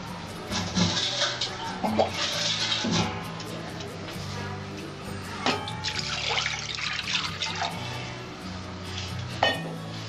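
Water splashes and trickles into a karahi in short bursts, with some background noise and faint clatter, moderately quiet.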